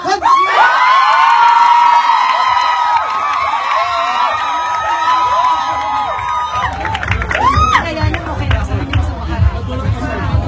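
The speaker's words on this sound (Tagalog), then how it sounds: "Sabay-sabay po natin palakpakan at hiyawan, K-Ba!" A crowd at a pageant introduction bursts into loud cheering, whoops and shrill shouting, with clapping and a babble of voices building toward the end.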